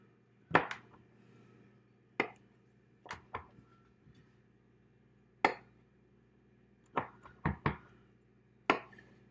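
A knife slices through chocolate chip scone dough in pie-shaped wedges, striking the board below in about ten sharp, separate taps spread irregularly across a quiet kitchen.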